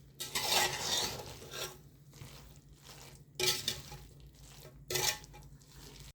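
A spoon stirs ingredients for Tirupati laddu in a metal pot, making close scraping strokes in irregular bursts with quieter gaps between them and no talking.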